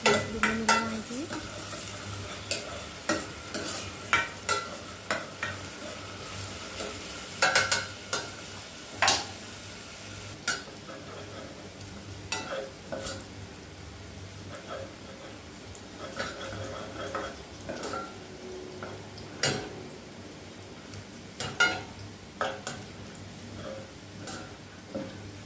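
A pan of frying food for Egyptian fatta is stirred steadily, the light sizzle running under repeated scraping and clinking of a utensil against the pan, close and fairly quiet, with no talking.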